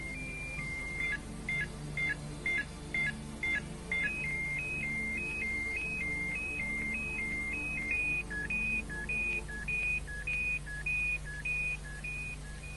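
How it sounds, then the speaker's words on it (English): A Peugeot 206 speed alarm chimes in a steady series of short electronic beeps alternating between two pitches, clear and close, repeating for over ten seconds with no voices. "there is the possibility of an audible alarm once a certain speed is reached."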